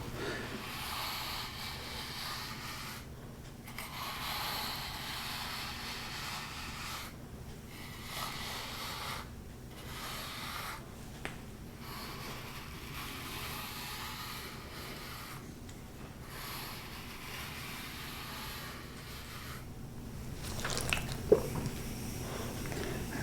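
A big bristle brush works through a French bulldog's fur in steady, close-up scratchy strokes that repeat with short pauses between passes.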